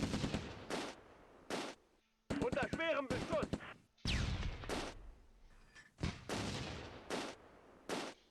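Machine gun fire in the Close Combat II video game: a rapid burst of clattering shots mid-clip among several separate sharp bangs and thuds spread across the clip.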